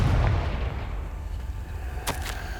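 Confringo fire spell blasts in the Hogwarts Legacy video game, a rumbling explosive roar with crackling debris and two sharp cracks near the end, loud and continuous.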